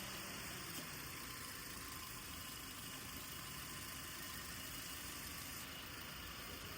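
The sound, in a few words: Toyota Avanza car engine idling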